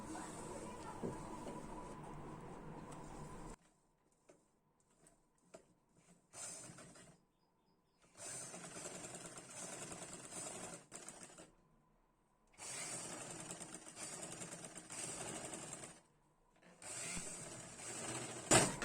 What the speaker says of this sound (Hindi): अब हम इसमें सिलाई लगाएंगे।